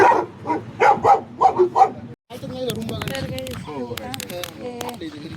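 A young German Shepherd barks in a quick series of about six sharp yips, then settles into whimpering and whining while people talk nearby.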